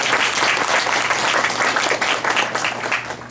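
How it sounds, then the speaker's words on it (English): Dense, loud round of applause from a panel audience at a New York City Bar Association event, many people clapping continuously before it eases slightly toward the end. "And please let's give a round of applause to our global partners who are over here."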